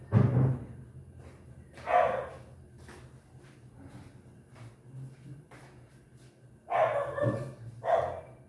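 A dog barks in short bursts, a few sharp barks spaced apart with quieter stretches between, fairly close over a low background hum.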